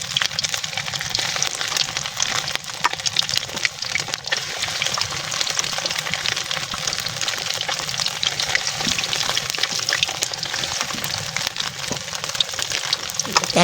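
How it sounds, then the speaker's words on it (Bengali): Flour-coated food frying in hot oil in a wok, a dense, continuous crackling sizzle held at steady loudness throughout, close and even with no talk. "এরপরে এইভাবে তেলে দিয়ে ভাজতে হবে।"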